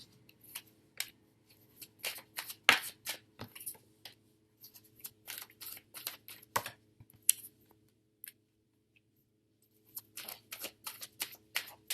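Tarot cards are handled and laid out during a card reading, making soft, quiet flicks and clicks in irregular bursts separated by short pauses, with no talking.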